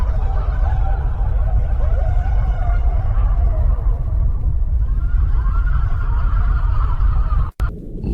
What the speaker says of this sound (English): These sound waves were sent out by a massive black hole 200 million light-years away. It hums in the lowest note in the universe.